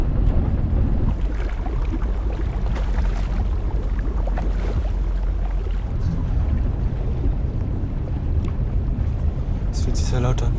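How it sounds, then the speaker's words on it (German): A small boat's engine runs in a steady, loud low rumble with wind buffeting the microphone, and voices speak over it. "Können wir den Motor nicht abstellen?"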